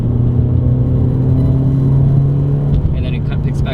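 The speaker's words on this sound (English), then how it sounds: "4th gear, 35 miles an hour, foot to the floor, or I'll downshift to 3rd, foot to the floor" A Toyota GR86 engine pulling at full throttle in gear around 35 mph, a loud steady droning rumble with a strong low hum from inside the cabin, with a brief higher sound near the end.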